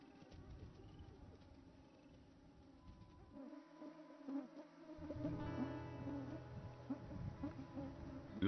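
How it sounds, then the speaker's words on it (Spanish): Mosquitoes swarming in the Arctic tundra give off a thin, continuous high buzzing with wavering tones, fairly faint at first and growing denser and louder toward the end, with no talking. "Los mosquitos están por todas partes"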